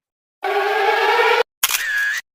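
A lyrebird in the moist forest of southern Australia mimics a camera shutter, giving a loud, close, sustained mechanical burst followed after a brief gap by a second shorter burst ending in a tone.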